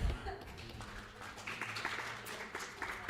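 A congregation claps together during a Unitarian Universalist Sunday service, a dense, steady patter of applause lasting a few seconds with no talking over it.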